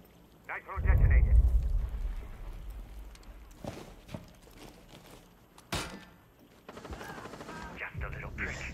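A nitro charge detonates with a heavy low boom in a tactical shooter game, followed by scattered gunshots and sharp cracks, with voice chat talking over the action.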